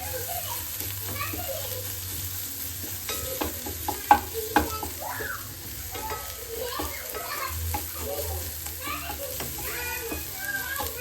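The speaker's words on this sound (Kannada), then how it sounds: "ಈರುಳ್ಳಿನ ಚೆನ್ನಾಗಿ ರೋಸ್ಟ್ ಮಾಡಿಕೊಂಡು ಬಟರಲ್ಲಿ ಒಂದು ಕಡೆ ಮಶ್ರೂಮ್ ರೆಡಿ ಇದೆ" Onions and mushrooms frying in butter in a pan, with a steady soft sizzle, scattered stirring scrapes and a couple of sharp clacks, and faint children's voices in the background.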